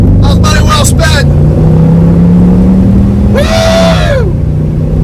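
A 2008 Range Rover Supercharged with its muffler cut off, a loud, deep engine rumble droning throughout, with a steady pitch that rises and falls, under intermittent talking.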